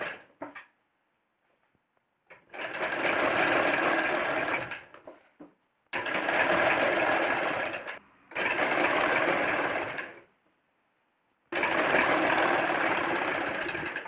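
A sewing machine stitches the folded hem of a salwar suit kurta in several long, steady bursts of loud, close motor whirring, separated by short pauses as the fabric is repositioned, with no talking.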